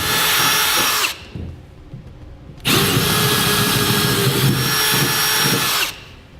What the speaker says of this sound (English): we'll go ahead and drill them out to the size indicated in the instructions